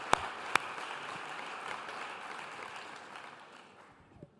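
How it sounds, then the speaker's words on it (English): A large conference audience applauds at a government summit: a dense, even wash of clapping with a couple of sharp close claps, slowly fading away toward the end. "let's give a round of applause for the UAE"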